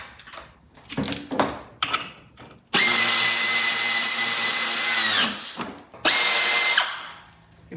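Power tool running bolts on a Subaru WRX transmission install, with a few short clicks and bursts at first, then two sustained loud whirring runs, close by and with no talk.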